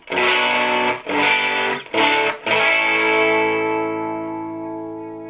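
A PRS SE50 guitar amp with its bright switch engaged plays loud, distorted guitar chords, several short strums and then a long final chord ringing out and slowly fading, with nothing else heard.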